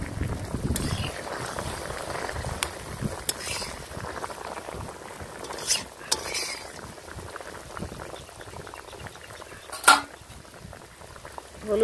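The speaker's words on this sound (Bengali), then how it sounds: "হলুদটা দিয়ে আমি আরও কিছুটা সময় ফুটিয়ে নেব।" Mango chutney boils in a pan with a steady close bubbling and popping simmer, a few sharper clinks and spikes breaking through, with no talking.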